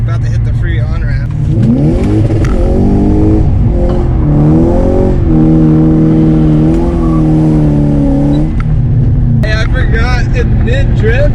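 A BMW 540 E34 with worn tires accelerates hard onto a freeway on-ramp, its engine note rising steadily and loud from inside the car with a droning exhaust, while a voice talks over it.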